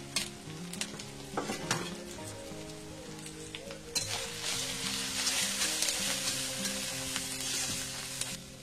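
Ground spices for Bengali dry-fish chorchori fry in hot oil in a pan, a steady close sizzle broken by repeated scraping and clinking stirs of a spatula.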